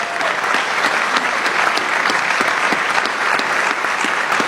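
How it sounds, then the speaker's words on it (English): A town hall audience in Astoria, Oregon gives sustained applause, a loud, steady wall of many hands with individual sharp claps standing out near the front. "Let's give all of them a big round of applause."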